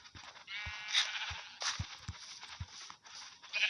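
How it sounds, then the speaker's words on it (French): Sheep bleating in a video game, several short bleats spread across the moment against a steady bright hiss of game ambience, with no talking. "finissons avec les moutons"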